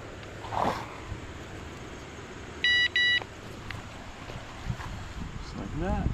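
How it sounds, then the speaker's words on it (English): A carp fishing bite alarm gives two short electronic beeps close by on a windy outdoor bank, with someone talking around them and wind buffeting the microphone. "This has a bait runner on it, so I'm gonna put that on my bite alarm."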